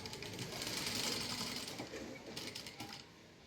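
A sewing machine stitches the back part of a garment, running in a fast, steady mechanical whir close by for a few seconds before slowing and stopping.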